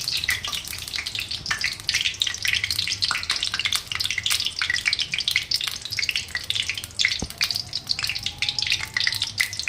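A bay leaf sizzles in hot oil in a pan, a steady crackling fry running continuously throughout with scattered sharper pops and no talking.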